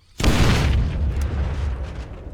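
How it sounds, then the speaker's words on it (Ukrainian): A single loud explosion blasts apart a pile of rubble in a tunnel in Zompiercer, bursting suddenly and then rumbling as it slowly fades. "А тепер є ефект. Воно рознесло пів половину цього завала."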